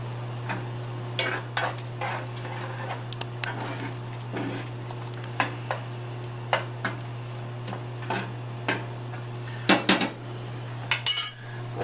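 Coffee-rubbed steak in a pan is stirred with metal utensils, giving irregular clinks and scrapes over a low steady hum and a faint sizzle, close by and without talk.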